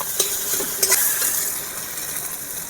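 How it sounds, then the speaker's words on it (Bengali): Garlic and ginger paste frying in a pan for Kashmiri aloo dum, a steady close hiss with a few sharp scrapes and clinks of a spoon, no voices. "রসুন বাটা, আদা বাটা, ভালো করে ভেজে নিতে হবে।"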